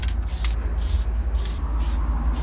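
Aerosol spray adhesive sprayed in short hissing bursts while refitting a kei truck headliner, five or six close, sharp sprays with brief pauses between them over a low background rumble.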